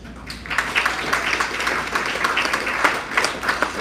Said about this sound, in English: everybody give them a round of applause for the space.